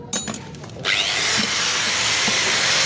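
A power grinder bites into the threads of a spring bolt in a workshop, starting with brief clicks and then settling into a loud, sustained, harsh grinding roar close by.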